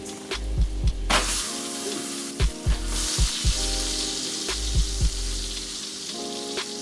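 Butternut squash cooking in organic butter with salt and pepper, a continuous close sizzle and crackle in the pan, punctuated by several soft low thumps.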